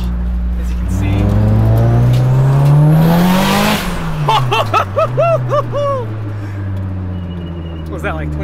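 A 600HP Mitsubishi Evo 8 race car driving on a street, its engine loud and close as it revs up hard, then shifts and drops, while voices talk over the engine.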